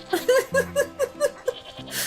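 A little rainbow sheep in the video game Wytchwood bleats in a rapid series of about eight short, bright calls, each a quick rising-falling bleat, close and clear over quiet game music.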